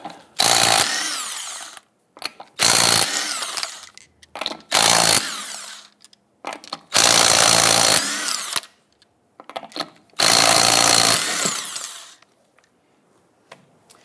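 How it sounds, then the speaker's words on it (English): Impact wrench loosening and spinning off 19 mm lug nuts on the front wheel of a 1997-2006 Jeep Wrangler, five loud, close bursts of whirring and rattling, each about a second long, separated by short pauses. "go ahead, loosen and remove your lug nuts"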